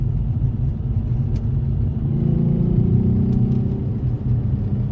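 Nissan 350Z/G35 fitted with Manzo cat delete test pipes holds about 3,000 RPM, a loud, steady, deep exhaust drone with a slight swell partway through, recorded close from the rear bumper.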